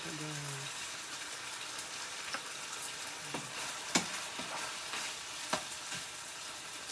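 Chicken chow mein with garlic, oyster sauce and pepper sizzles in a pan, a quiet steady hiss broken by occasional scrapes and taps of stirring, with a short bit of voice at the start.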